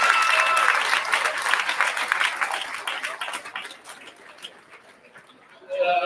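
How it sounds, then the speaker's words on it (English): An audience claps at a county fair hog show in a livestock market ring. The dense, loud applause holds steady at first and then fades and thins out, with a voice coming back in near the end. "give them a big round of applause, please."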